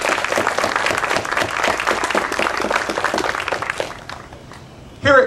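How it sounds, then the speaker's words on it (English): Sustained audience clapping for a general at a university veterans center dedication, thick and even for about four seconds before dying away, followed by a brief sound at the close. "Let's give the general another round of applause for those remarks."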